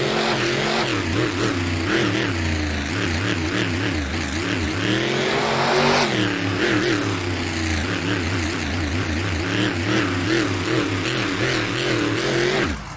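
A custom racing truck's engine revs hard and continuously during a Honolulu off-road race, loud and close, pitch rising and falling through throttle surges as it spins tight donuts, with no voices over it.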